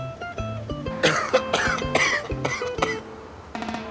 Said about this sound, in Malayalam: ചുമയാ.